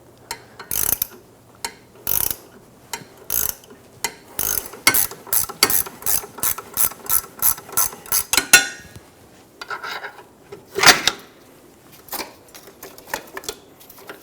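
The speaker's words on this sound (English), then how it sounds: "I have a 2-jaw puller or a pitment arm puller set up on our ball joint." A two-jaw pitman arm puller is tightened to press a badly stuck rear ball joint out of the knuckle on a 2010-2014 Subaru Outback. Rapid bursts of close metallic ratchet clicks come with pauses and a few sharper knocks.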